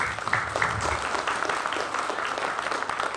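Gathering of new boarding-school student parents at a 2023 pesantren welcome event bursting into applause, a continuous, moderately loud spread of many hands clapping throughout.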